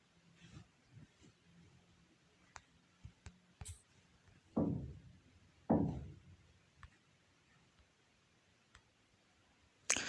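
Sparse, faint mouse clicks scattered through a quiet room, with two louder dull knocks near the middle.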